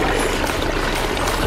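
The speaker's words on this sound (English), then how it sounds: "Really cool Babbly Brook waterfall." A backyard pond's babbling-brook waterfall add-on pours steadily, its close, even rush and trickle of water running unbroken and alone throughout.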